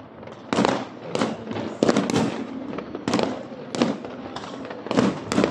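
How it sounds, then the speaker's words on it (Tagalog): Fireworks for Chinese New Year in Bel Air, Makati, Philippines burst repeatedly, sharp cracking explosions coming every half second or so, loud and close with a crackling rumble between. "Marami silang fireworks."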